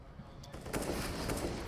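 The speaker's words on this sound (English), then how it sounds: "drive-by shooting for Forrest. Down goes Taco" Rapid gunfire bursts from a Counter-Strike match on the Cobblestone map, an SK Gaming versus NiP grand final at IEM Oakland 2016, crackling as a close, busy volley over steady game noise and a voice in the background.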